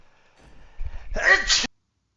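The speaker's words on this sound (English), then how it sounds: "caught that sneeze before I blew my sneeze in your ears" A single close sneeze with a short breathy build-up, then silence.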